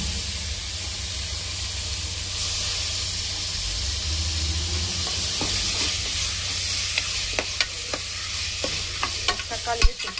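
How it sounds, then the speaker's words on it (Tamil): Tomatoes sautéed and stirred in a pan for mushroom biryani, a steady sizzling hiss with sharp spatula scrapes and clicks growing busier toward the end, close up with no talk. "தக்காளியை சேர்த்து நல்லா நம்ம வதக்கி விட்டுடலாம்."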